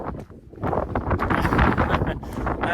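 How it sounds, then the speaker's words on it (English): Strong, gusting wind buffets the microphone on the exposed summit of Clougha Pike in the Forest of Bowland, roaring in loud, uneven surges throughout. "As you can probably hear that wind."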